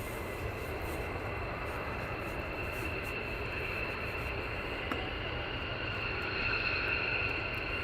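Fighter jets of the 492nd and 493rd squadrons at RAF Lakenheath on a cold, frosty morning with runway 24 in use, heard as a steady, fairly distant engine roar that holds level throughout with no break.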